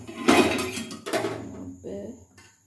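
A tawa griddle is set down on the stove with a couple of loud metallic clanks and scrapes, close by, while a voice talks over it.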